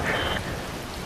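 Rain pours steadily in the Metal Gear Rising: Revengeance video game, a dense hiss with a soft rumble of thunder beneath. It is moderately loud and constant, without voices.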